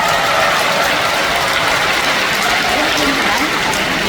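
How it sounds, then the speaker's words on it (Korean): A crowd at a Korean lawmaker's constituency report meeting applauds to welcome a guest, a steady, loud wash of clapping that runs throughout. "큰 박수로 환영해 주십시오"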